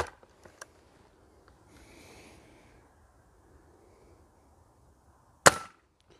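A break barrel air rifle fires an 11.75 grain alloy pellet with one sharp, loud crack that rings briefly. Near the start come a few faint clicks and a soft rustle, with quiet room sound in between.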